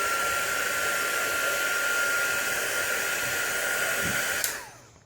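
A hair dryer blows steadily on ink spread over a card, a loud constant whine and rush of air that ends with a click as it switches off and winds down.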